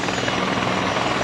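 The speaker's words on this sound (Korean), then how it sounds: "현재 좌측 상공에서 산림청 대형 헬기 한 대가 투입되고 있습니다." A large Korea Forest Service firefighting helicopter passes overhead during a joint wildfire-suppression drill, its steady rotor roar loud and continuous throughout, with no voices over it.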